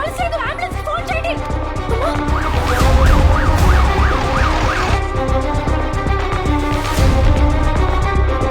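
An ambulance siren wails loud and close, its rising and falling tone repeating in quick cycles over engine noise and a busy background, with voices underneath.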